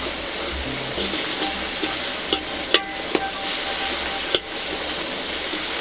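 A spoon slowly stirs frying masala for an egg dish in a pan, with a soft, steady sizzle and a few sharp scraping clicks against the metal.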